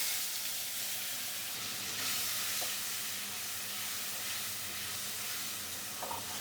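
Spice paste hits hot oil for a Bengali katla fish-head curry, producing a steady, close hiss and sizzle with no one talking.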